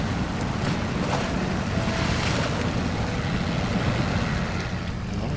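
Heavy truck fording an off-road river in a video game, a continuous loud wash of churning water and broadband rushing noise with faint engine undertone, close and steady with no talk.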